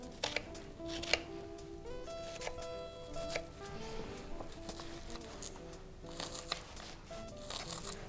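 A knife chops shallot and garlic on a cutting board for stuffed tomatoes, giving quiet, irregular taps and brief clusters of cuts in a home kitchen, faint and close, with background music underneath.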